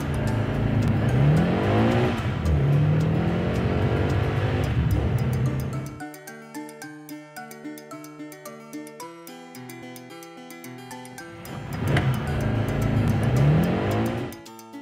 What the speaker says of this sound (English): Sporting car.